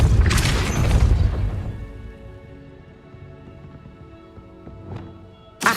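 Depulso spell blast in Hogwarts Legacy, a loud booming impact that rolls away into a long fading rumble, followed by a faint sweep and a sharp click at the end.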